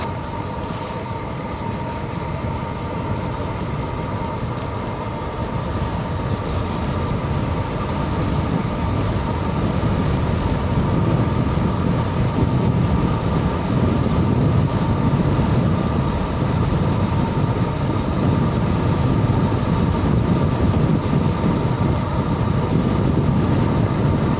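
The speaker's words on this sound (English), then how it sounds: "Wow, wind 15 meters per second. It's like 50 kilometers an hour." Strong wind of about 15 meters per second roars steadily during a bikepacking ride in Norway, a loud continuous broadband rumble and buffeting that swells slightly midway, with no voices.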